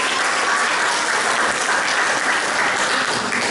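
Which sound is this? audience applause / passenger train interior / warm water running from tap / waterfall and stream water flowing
audience applause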